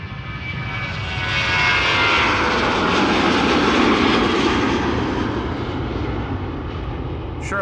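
A Boeing 737 jet bound for Warsaw departs Amsterdam Schiphol on a sunny morning, its loud broadband engine roar swelling and holding steady before easing slightly, heard alone without talk.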